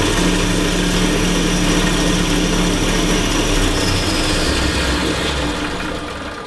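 Wood lathe running at about 2,500 RPM, turning a Christmas light bottle stopper with finish applied: a steady, loud motor whir and hum holding constant throughout, easing slightly at the end.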